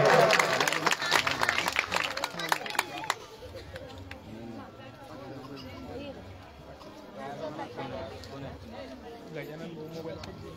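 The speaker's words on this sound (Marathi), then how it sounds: "सर्वांनी जोरदार टाळ्या वाजवायचे." Audience applause at a donation announcement, loud dense clapping for the first three seconds that then drops away into murmuring crowd chatter and voices.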